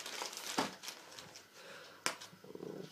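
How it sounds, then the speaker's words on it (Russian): A plastic packet crinkles and rustles as tactical gloves, Mechanix M-Pact 3, are unpacked. Soft, close handling noises come in with two sharper crackles, and the sound is faint overall. "Упаковано в обычную"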